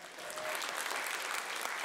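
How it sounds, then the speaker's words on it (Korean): An audience applauds at a performance of Jongmyo Jerye-ak ritual dance, a dense, even patter of many hands clapping together, heard at a distance and fairly quiet throughout. "박수 한번 주세요."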